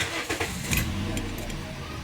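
A Toyota Vios with a misfiring engine cranks and starts, a mid-pitched engine rumble catching quickly and settling into a steady idle over about two seconds, close by.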